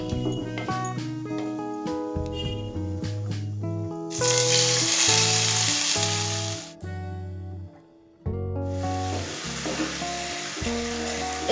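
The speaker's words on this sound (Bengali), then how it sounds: "এবার পেঁয়াজ ব্রাউন করে ভেজে নেব।" Onion paste frying in hot oil with whole garam masala, a steady sizzle that rises loud in the middle and again near the end, mixed under a bed of melodic music.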